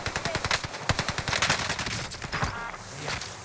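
Rapid bursts of automatic gunfire from the battle royale game Warzone crackle in quick succession, dense and loud, with a short pause and more shots near the end; no talking over them.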